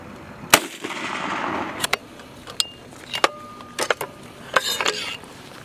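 An M3 Carl Gustaf 84mm recoilless rifle fires one sharp, loud blast that decays into a rumbling echo across an open range, followed by several fainter cracks and clanks of handling.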